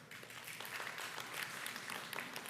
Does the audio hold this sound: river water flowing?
no